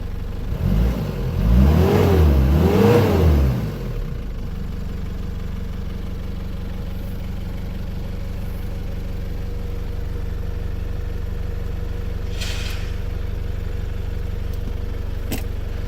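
Nissan Homy camper with a 4x4 turbo diesel engine starting: a loud cranking and revving burst of a few seconds, then settling into a steady, close diesel idle hum.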